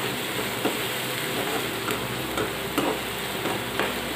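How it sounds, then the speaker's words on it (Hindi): Chopped onion with green chilli fries in a pan, giving a steady, close hiss with faint ticks and light stirring clicks scattered through it, no voices. "गोल्डन ब्राउन होने तक अच्छे से भून लेंगे हम प्याज को"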